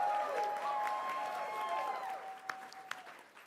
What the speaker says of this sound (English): Audience, give them another round of applause for making it to this stage.